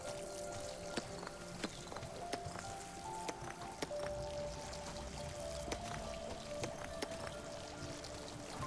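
Steady water spray from a pressure washer in Fresh Start Cleaning Simulator, a continuous hissing rush with faint irregular ticks and pattering throughout, fairly quiet and with no voices.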